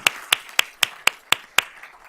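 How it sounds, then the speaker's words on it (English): Slow, evenly spaced claps, about seven sharp strikes, from a small board meeting audience applauding an award recipient, fading out at the end. "So let's give him a round of applause."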